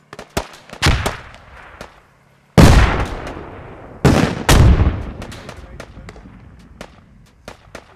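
Grenade blasts and sharp gunshots in a shooter video game, several loud explosive bursts with decaying tails and scattered single shots between them, heard under a commentator's voice.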